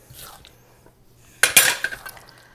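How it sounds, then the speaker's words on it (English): A spoon stirs blueberry pie filling with cornstarch in a bowl, quiet at first and then a burst of clattering, scraping contact against the bowl for about a second. "So you just mix this around till you don't see cornstarch anymore."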